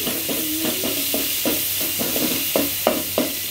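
Chopped onions frying in very little oil, a continuous bright sizzle with regular scraping strokes of a spatula stirring them in the pan, close and steady.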